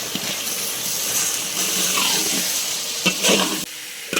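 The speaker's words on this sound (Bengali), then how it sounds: "কষে নেওয়া মশলাতে আমরা এখন আলু এবং পটলগুলোকে ঢেলে দেবো।" Potatoes and pointed gourd hit hot fried spice paste in a pan, giving a loud, steady sizzle and crackle close up, with brief stirring scrapes near the end.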